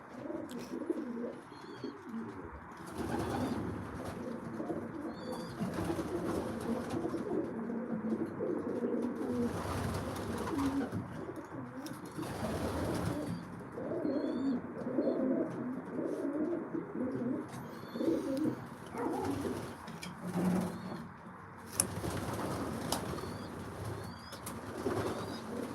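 Racing pigeons in their loft coo steadily in a low, murmuring chorus, with occasional wing flaps and shuffling movements close by, continuous and moderately loud with no talking.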